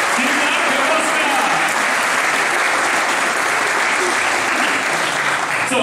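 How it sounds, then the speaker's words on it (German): Dense audience applause inside St.-Nicolai-Kirche at a barrel organ concert, loud and continuous for several seconds, many hands clapping in an even, unbroken wash of sound. "das ist ein Applaus hier"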